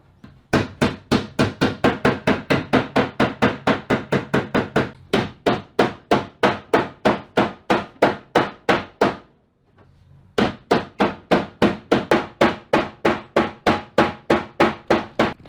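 Steady, rapid hammer blows on a dented car fender, dozens of sharp strikes on sheet metal in a regular rhythm, with a brief pause before the pounding resumes.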